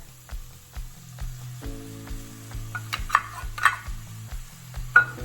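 Salsa verde poured into a hot pan for beef enchiladas sizzles and fries steadily, close up, with a low rhythmic pulsing hum underneath and a few sharper stirring clinks and scrapes toward the end.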